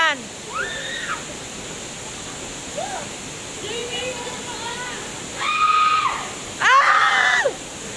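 A waterfall roars steadily while people swim and splash in the pool below, with excited shouts and screams rising over the constant rush of water.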